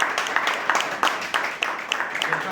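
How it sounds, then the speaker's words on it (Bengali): Loud, dense applause from a crowd at a business team meeting, with many overlapping hand claps filling the room steadily for a couple of seconds. "জোরালো করতালি"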